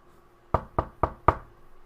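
Four evenly spaced knocks on a wooden door are acted out during a Dungeons & Dragons session, close and crisp against a quiet background.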